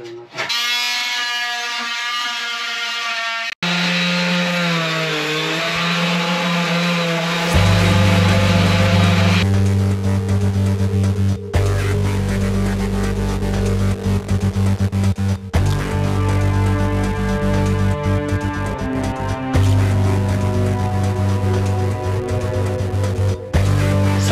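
A power sander grinds steadily against boat cabin walls during a refit, a loud close mechanical whine and buzz that runs almost unbroken, with a few brief pauses and pitch shifts as the tool moves.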